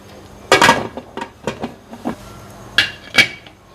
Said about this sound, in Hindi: तो अब इस पॉइंट पे हम करेंगे इसका कुकर का ढक्कन बंद